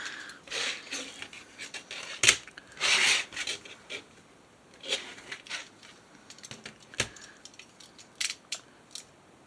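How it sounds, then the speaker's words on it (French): A craft cutter knife slices through paper for a scrapbook album page, close and quiet, with a series of short scraping and rasping strokes in an irregular rhythm. "Hop, je prends ici pour pouvoir découper. Hop, mon cutter."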